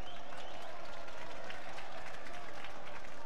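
A football stadium crowd at Swindon Town versus Bristol City roars and claps in a dense, sustained wash of noise, appealing loudly throughout.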